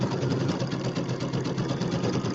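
A sewing machine stitching a quilted settee pillow with a rapid, even mechanical whir and fast rhythmic needle pulses, close and steady throughout.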